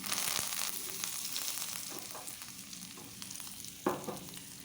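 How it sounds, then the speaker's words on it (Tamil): Mustard seeds, urad dal and curry leaves crackle and sizzle in a little hot oil during tempering, a steady close frying hiss with small pops and a louder spit near the end. "கொஞ்சமாக எண்ணெய் விட்டு கடுகு, உளுந்தம்பருப்பு, கருவேப்பிலை போட்டு தாளித்து"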